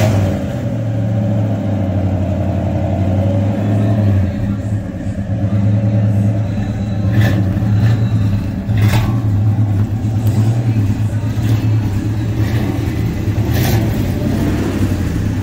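A 1965 Pontiac GTO with a 389 engine rumbles and revs close up, a loud steady mid-range idle with throttle swells and a few sharp bursts over about fifteen seconds.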